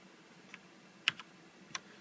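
A few sparse, crisp key clicks on a Ducky Shine 2 backlit keyboard, three or four separate taps spaced out against a quiet background.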